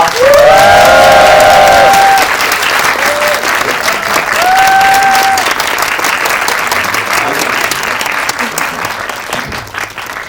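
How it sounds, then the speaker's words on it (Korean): An audience at a special film screening Q&A applauds the director and actress, loud dense clapping with some cheering that starts strong and slowly tapers off, with brief voices over the start. "오늘 함께 해주신 정보식 감독님과 하나인 배우님 박수 소리 부탁드리겠습니다"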